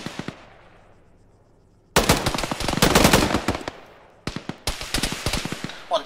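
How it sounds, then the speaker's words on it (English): Automatic gunfire in the Arma 3 military shooter rattles in loud, close bursts after a quieter stretch of distant shots, with short pauses between volleys. "Bad guy just shooting at us"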